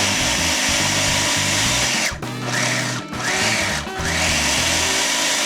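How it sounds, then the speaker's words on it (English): A blender purees onions, a loud steady motor whine that dips briefly three times as the load shifts, then holds its pitch, with no voices. "I don't know if this is a food processor, I think it's more of a blender"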